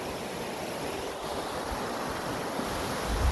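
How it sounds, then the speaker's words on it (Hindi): A river rushes below a rain-slick mountain road in Pakistan, a steady, broad roar of flowing water with some wind noise, even and continuous throughout. "और नीचे दरिया चल रहा है"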